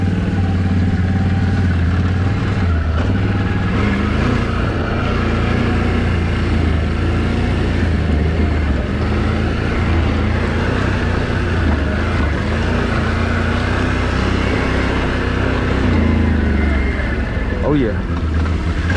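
Quad bikes riding around town give a loud, steady engine drone with low rumble and clattering mechanical noise throughout, a voice talking over it.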